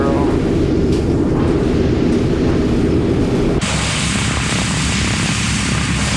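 Four-engine B-17 Flying Fortress warbird with its propeller engines running, a loud, steady droning roar that shifts abruptly to a brighter, higher tone partway through, with no pauses.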